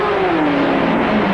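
Race cars roar along the Mulsanne straight at Le Mans, led by the number 2 Ford GT in 1966, a loud continuous engine drone with a gliding pitch as they pass close by.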